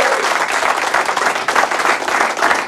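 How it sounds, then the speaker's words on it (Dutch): Audience applause greeting a guest on a Belgian football supporters' show, a dense, steady wash of many hands clapping at close range throughout, with no talk over it. "Geef hem een applaus, Bjorn Vlemings."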